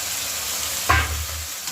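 Potatoes and peas fry with an even hiss in a pan, broken by one short stirring scrape near the middle, heard close with no talking.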